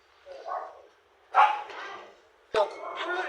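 A dog barks in a few short bursts close by, mixed in with people chatting casually during a mukbang meal at home.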